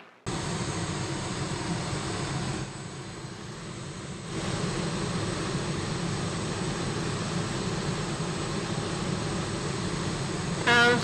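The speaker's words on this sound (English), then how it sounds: "That is a rocket, gentlemen." A WW2 Komet rocket-powered aircraft roars past in a film scene, a loud continuous broadband rush lasting about ten seconds with a brief dip in the middle and no speech.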